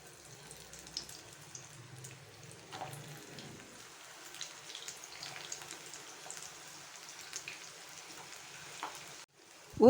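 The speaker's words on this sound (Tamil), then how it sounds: "இப்போ அதை எண்ணெயில் பொரித்து எடுத்துக்கலாம்" Meal maker kola urundai balls deep-frying in hot oil, giving a quiet, steady bubbling sizzle with small crackles and a brief bump at the end.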